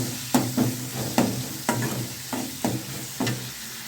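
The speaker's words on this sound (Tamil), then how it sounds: "ஒரு தக்காளி நான் கட் பண்ணி வச்சுருக்கேன், அதையும் சேர்த்துலாம். சேர்த்துட்டு நல்லா மிக்ஸ் பண்ணிவிடுங்க." Onion and tomato sauté in a pan for murungai keerai sambar as a spoon stirs them in repeated scraping strokes over a steady, close sizzle, with no talk.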